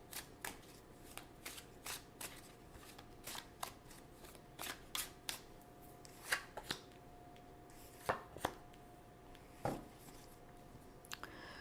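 Tarot cards are shuffled and picked in a quiet room, with a series of crisp, close riffling snaps and flicks at irregular intervals, some louder than others, and no voice over them.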